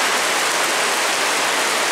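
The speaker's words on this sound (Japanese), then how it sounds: "雨が降ってます" Heavy downpour during a forecast torrential rainstorm near a hall entrance in Yamatotakada, Japan: a steady, dense hiss of rain that fills the whole clip, loud and unbroken, with no voices.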